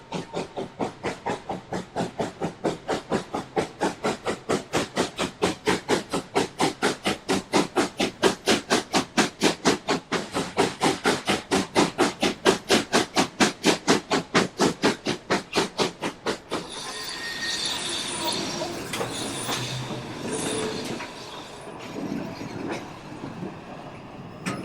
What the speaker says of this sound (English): brings the locomotive speed to the applicable limit of 40 km per hour